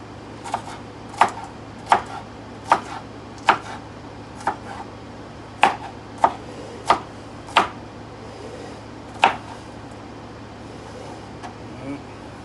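A knife chops a bell pepper sharply on a cutting board, a dozen or so crisp strikes at a fairly steady pace with a pause before the last few, over a low background hum.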